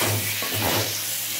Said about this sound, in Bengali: আলুটাকে মশলার সাথে কষিয়ে নিলাম